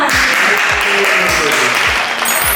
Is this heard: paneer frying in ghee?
no